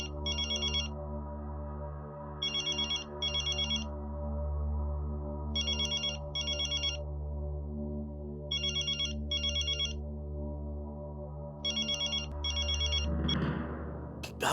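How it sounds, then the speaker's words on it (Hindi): A phone ringtone chirps in repeated paired bursts over a sustained musical drone, ringing several times before a brief swell at the end. "इस वक्त टप्पू का फोन?"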